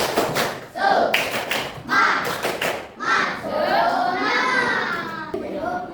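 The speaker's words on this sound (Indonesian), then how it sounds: "Tepuk semangat dulu, tepuk semangat." Schoolchildren in a classroom do a rhythmic spirit clap, bursts of sharp patterned claps early on, followed by children's voices chanting and talking over the noise.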